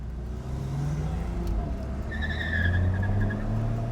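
A 1967 Volvo P1800 accelerating, its engine note rising steadily in pitch over a few seconds, close and fairly loud inside the car.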